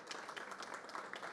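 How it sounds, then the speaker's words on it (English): Audience applause for a panel at a civil society session of the UNFCCC climate talks, a steady wash of many hands clapping at once, fairly faint and even throughout with no speech over it. "So please join me with a big applause to these fantastic panelists."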